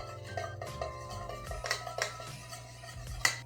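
A cocktail is stirred in a mixing glass with a few light, irregular metallic clinks and taps against the glass, close and quiet.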